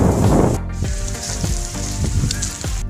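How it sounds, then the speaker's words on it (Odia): Rain falls steadily outdoors as dark clouds gather and the wind picks up, a close, even hiss with a few soft knocks and rattles scattered through it. "ବର୍ତ୍ତମାନ ବର୍ଷା ହେଉଛି, ମୁଁ ବର୍ଷାରେ ଭିଡ଼ିଓ କରୁଛି"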